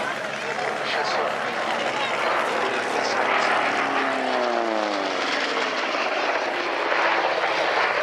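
A Curtiss 75 Hawk propeller fighter roars past at an air show at La Ferté-Alais, a loud sustained engine drone with a rising and falling pitch sweep as it passes, under a French commentator's voice.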